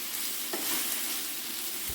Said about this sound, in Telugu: ఇప్పుడు ఒకసారి అంతా కలిసేటట్టుగా కలుపుకోవాలి.